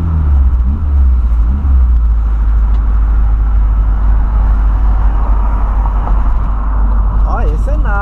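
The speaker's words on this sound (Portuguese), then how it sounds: "Olha o ronquinho do Voyage." A Volkswagen Voyage engine rumbles loudly and continuously at close range during a late-night drive, a deep steady low growl throughout.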